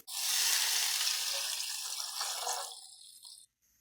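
About one and a half litres of water gushes steadily into a cooking pot of browned onions and green chillies for a spicy chicken pulao, a loud hissing pour lasting several seconds before cutting off.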